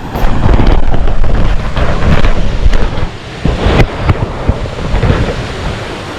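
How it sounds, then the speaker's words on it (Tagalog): Strong river current rushing outdoors at a camping spot, a loud, dense, continuous roar with gusty buffeting on the microphone and no voices. "Lakas ng agos mga tropang Lodi"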